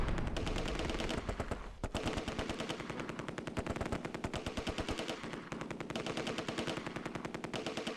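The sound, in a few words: gunfire in Close Combat II video game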